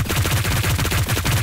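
Rapid machine gun fire in the Hyperscape battle royale video game, a loud, close, continuous stream of evenly spaced shots.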